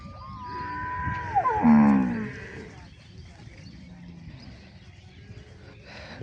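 A cow moos loudly once, a long drawn-out low call close by, with faint farm background noise before and after.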